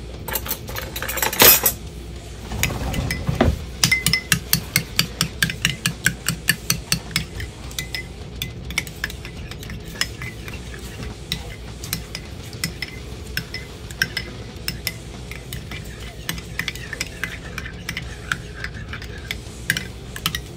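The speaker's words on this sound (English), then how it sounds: "And basically you just want to whisk." Eggs beaten with a utensil in a bowl while chipotle chicken puffs are prepared, a steady run of quick metallic clicks and taps that starts strong and rhythmic, then trails off into scattered lighter strokes, with no talking.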